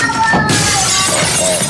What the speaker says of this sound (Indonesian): Pecah piring. Hancur.